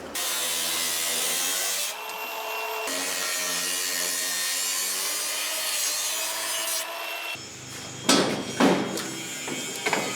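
A car body panel is cut during a 1936 Terraplane Coupe build with a steady grinding, rasping saw that runs continuously and close by. It changes pitch partway through, then finishes in rougher, scratchy strokes.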